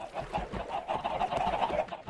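Chickens in a Minecraft egg-collecting grid cluck over and over in a close, busy chorus of short overlapping calls with no talking.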